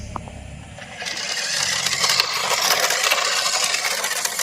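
A Nishan toy racing car with lights runs on a test drive, giving a steady whirring, rattling mechanical buzz that starts after a brief quiet moment and continues evenly, close and fairly loud, with no talk.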